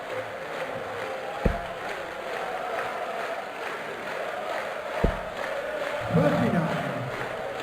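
A darts crowd at the 2014 PDC Austrian Darts Open sings the "Stand Up If You Love the Darts" chant, a distant massed singing with a few sharp thuds and a swell near the end, under a commentator's talk.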